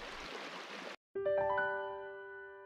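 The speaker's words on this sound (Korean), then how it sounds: "시원한 물소리가 소란했던 마음까지" Cool flowing stream water in Gokseong, South Korea: a bright, steady rushing hiss for about a second that cuts off abruptly, followed by a clear ringing metallic tone that slowly fades.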